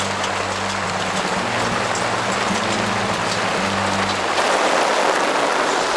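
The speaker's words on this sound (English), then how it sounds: "We've had to stop filming because it's a hailstorm, a huge hailstorm." A huge hailstorm pounds down outdoors, a loud, dense and continuous rattling wash with a low hum underneath for the first few seconds.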